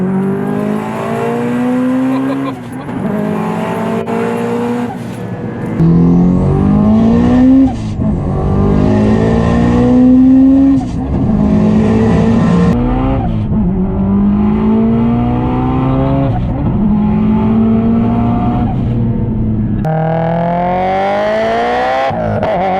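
An 850-horsepower Subaru STI race car running 42 psi of boost accelerates hard through repeated rising gear pulls, each climb cut by a brief shift, very loud and close throughout.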